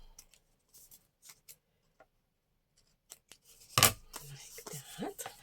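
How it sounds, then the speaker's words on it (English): Scissors cut the corners off a sheet of paper for a journal in a few quiet, separate snips, then a louder close crunching cut and paper rustling. "I'm going to cut the corners because I don't like them."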